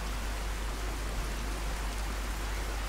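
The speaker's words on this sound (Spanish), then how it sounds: "llueve dos putos pares de cojones" Heavy rain in Fallout 4 pours as a steady, dense hiss with no breaks, loud and even throughout, with no talking.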